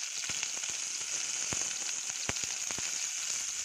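Tomato, onion and garlic sauté in oil in a pan with a steady, fairly quiet sizzle. Scattered sharp pops and crackles from the frying break through it. No one speaks.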